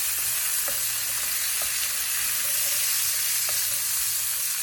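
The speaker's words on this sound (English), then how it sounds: "So you throw in your cherry peppers." Cherry peppers sizzle steadily in a hot pan of cooked meat, a continuous broadband frying hiss with faint crackles and no talking.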